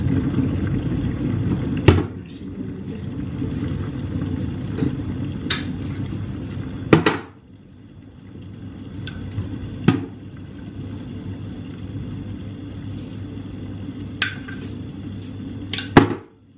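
A spoon clinks against a glass or cup while tea is being made, giving several sharp separate taps spread over the clip, close and fairly loud, above a steady low room hum.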